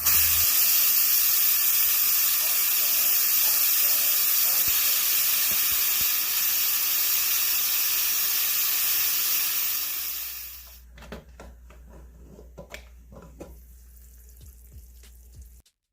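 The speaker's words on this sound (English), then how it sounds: "we're going to add the lid and let the pressure cooker do the rest of its job" A pressure cooker cooking Jamaican-style oxtails hisses with a loud, steady rush of steam that cuts off abruptly near the end, leaving faint clicks and quiet room sounds, no talk.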